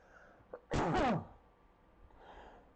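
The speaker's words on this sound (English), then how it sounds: "Not allowed to sneeze." A single loud person's sneeze, preceded by a brief sharp inhale, bursts close by and then fades into a quiet breathy tail.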